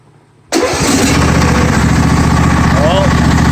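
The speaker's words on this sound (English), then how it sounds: "crank it over and see if we'll fire it up." A John Deere 155D lawn tractor engine cranks and catches, then settles into a loud, steady running drone close by, following a brief quiet moment at the start.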